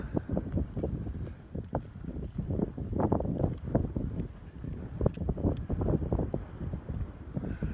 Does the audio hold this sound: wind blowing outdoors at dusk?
yes